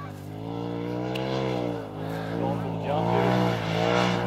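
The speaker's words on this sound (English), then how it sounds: "we're not that used to having turbo razors ripping around out here" A Polaris RZR Turbo S side-by-side revs and surges over a whoop section, its engine note rising and dipping with each bump, fairly close, while people talk over it.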